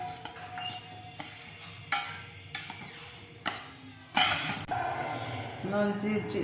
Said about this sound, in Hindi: ये सूजी हमारी भुनी जा रही है, अच्छी खुशबू आ रही है। हम इसको थोड़ा सा और भूनेंगे।